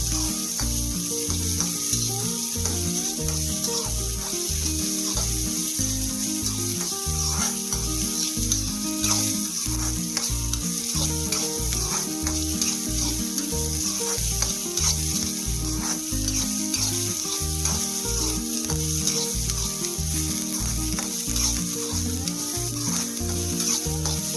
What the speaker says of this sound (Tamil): கருவேப்பிலை, வெங்காயம், வெங்காயம் நல்லா வதங்கணும்.